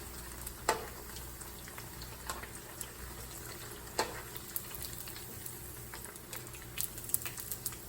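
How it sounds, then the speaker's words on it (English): Peach cobbler eggrolls, double rolled, deep fry in hot oil with a soft, constant bubbling sizzle. Occasional sharp pops and crackles break through it, with no talking. "fry them until they are golden brown"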